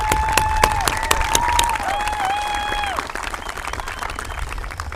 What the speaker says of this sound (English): So if we could give all the parents a round of applause.